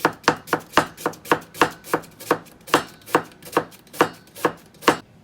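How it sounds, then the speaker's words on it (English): A really sharp knife chops half an onion into very thin slices on a board. About fifteen crisp, evenly spaced knocks come close and clear in a steady rhythm with no talking, then the chopping stops abruptly. "For this, you're going to need a really sharp knife and half an onion."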